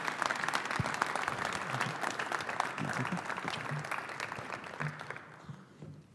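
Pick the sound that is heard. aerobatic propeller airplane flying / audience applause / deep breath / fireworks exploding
audience applause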